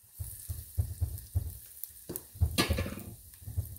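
Mustard seeds and split black urad dal with husk crackle and sizzle in hot oil for a carrot lemon pickle tempering, close-up bursts of popping and spitting over a frying hiss.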